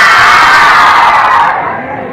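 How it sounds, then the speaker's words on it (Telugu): A large crowd at a movie promotion event shouts and cheers loudly, a dense wash of screaming voices that gradually fades. "మధ్యాహ్నం ఏం తిన్నారండి బాబు ఇలా అరుస్తున్నారు"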